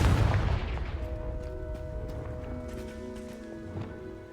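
Confringo blasting-spell explosions in the Hogwarts Legacy video game: a heavy boom opens, followed by crackling impacts and tonal magical ringing that slowly fade under a lingering hum.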